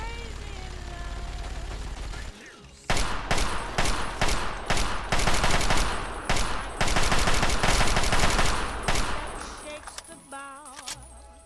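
A gunfight in Fallout 3 with dense, loud bursts of automatic and single-shot gunfire plus clanking weapon mechanisms, preceded by a steady ambient hum and ending in quieter, scattered sounds.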